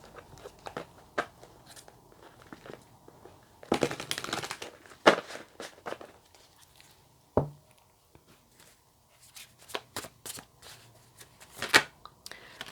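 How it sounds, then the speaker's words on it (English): Tarot cards are shuffled and riffled in a few brisk bursts, close and crisp, separated by quieter handling noises and light taps. "I'll just see if I can give these one more shuffle."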